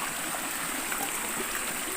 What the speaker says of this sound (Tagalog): Ito na yung ilog, manununso na tayo.